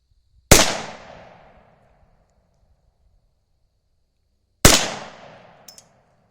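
A Remington Nylon 66 .22 rifle fires two sharp, loud shots about four seconds apart. Each crack fades in a short ringing tail, and a small click follows the second shot.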